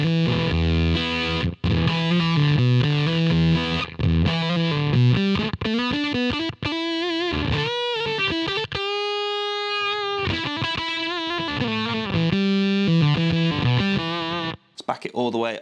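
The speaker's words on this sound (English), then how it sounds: "I do like the sound of a low biased fuzz" Electric guitar played through a low-bias fuzz pedal, gated and spitty, sustained distorted notes and chords cutting off abruptly between phrases, loud and close.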